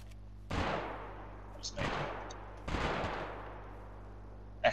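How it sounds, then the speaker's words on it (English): Distant AK and SMG gunfire in the video game DayZ, several separate booming bursts that each trail off into a long echoing decay, heard over a low steady hum. "SMGs. That's an AK."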